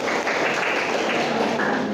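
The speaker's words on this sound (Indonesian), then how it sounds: "tepuk tangan buat Jomas" Audience applause for a student at an Indonesian university teaching session: a dense, steady wash of many hands clapping at once, continuous and moderately loud throughout, with no pauses.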